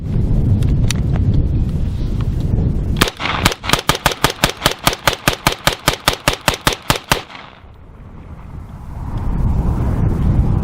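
Tavor X95 bullpup rifle firing its first rounds outdoors, a rapid string of about twenty sharp, loud cracks in steady rhythm after one opening shot, then wind noise with no talk.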